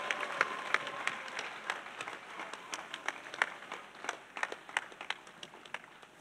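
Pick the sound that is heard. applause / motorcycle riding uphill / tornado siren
applause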